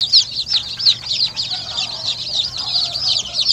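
Chicks in a brooder pen on a farm raising native chickens, peeping steadily in a high, busy chorus with frequent overlapping chirps, fairly close and continuous.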